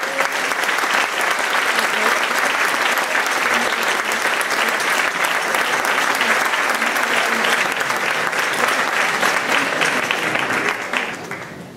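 Sustained, dense audience applause for musicians at a provincial folk dance gathering, loud and steady throughout before thinning slightly near the end.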